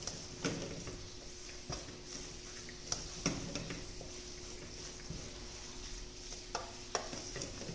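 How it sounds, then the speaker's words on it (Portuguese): A spoon stirs chicken filling with chopped green herbs in a pan, giving soft intermittent scrapes and clinks over a faint sizzle. "Vou misturar."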